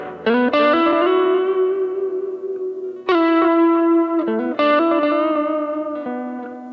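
Electric guitar with a hand-wound custom pickup, played on its third pickup position through distortion and chorus: three loud sustained strummed chords with ringing harmonics and reverb, clear and close, no voices.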